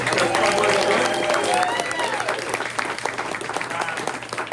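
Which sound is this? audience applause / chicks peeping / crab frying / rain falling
audience applause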